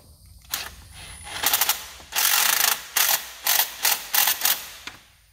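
A ratchet drives a screw into a brace on a V6 Mustang during a turbo kit install, clicking close and loud in a series of short bursts with brief pauses between strokes.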